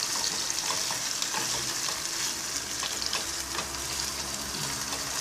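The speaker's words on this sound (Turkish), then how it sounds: "güzelce kavuruyoruz. Yumurta tavamızın içinde. Evet. Biraz sıvı yağda." Ground beef fries in a little oil in an egg pan, giving a steady close sizzle with light stirring scrapes that continue throughout, and nobody speaks.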